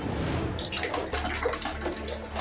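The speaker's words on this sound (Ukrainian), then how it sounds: "Вода тече звідусіль, заливає електропроводку і псує майно." Steady, loud rush of rainwater pouring into a sinkhole in a courtyard in central Kyiv and flooding a basement, a continuous gushing splash with no talking.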